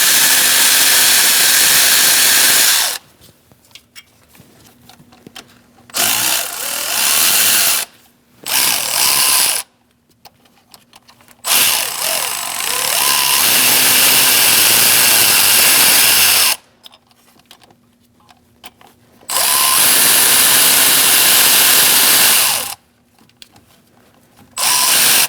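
Power tool spinning out Toyota Camry transmission mount bolts through a swivel socket on a 2002–2006 car, heard as several loud bursts of a few seconds each separated by near-silent pauses.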